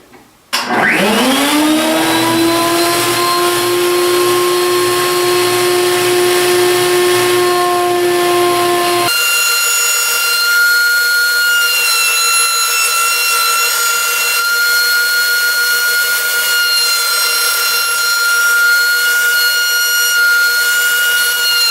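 Table saw spinning up and cutting through a zero clearance insert, a loud steady whine that starts abruptly and holds, then shifts pitch midway as the blade runs on alone.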